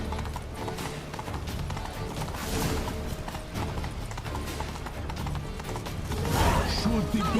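Horse hooves clip-clop steadily under a rider in The Witcher 3, loud and close, mixed with busy mechanical rattling and clanking from the game scene, with a brief voice near the end.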